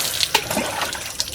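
Water splashing during a bath, a close, continuous pouring and splashing with brief sloshing surges, loud and alone.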